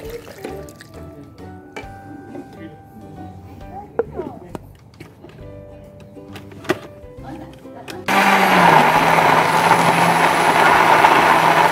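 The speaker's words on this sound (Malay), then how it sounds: "Halia, bawang putih ni kita blender dengan what do you call ni, kunyit kita blender dulu." Quiet background sounds with some voices at first, then a blender blending ginger, garlic and turmeric with a little water switches on loudly and whirs steadily at full power through to the end.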